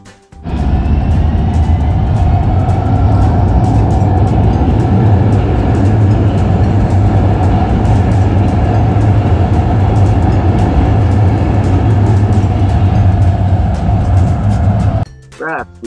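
A train passes at a station during the Lilac Festival, a loud sustained roar and rumble with steady wheel noise filling nearly the whole span, starting abruptly and cutting off near the end.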